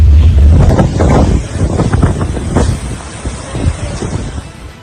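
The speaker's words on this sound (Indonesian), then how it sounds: "Jakarta terhempas disapu angin kencang." Strong gusting storm wind in Jakarta roars across the microphone in heavy, continuous buffeting bursts, loud and close, with no voices.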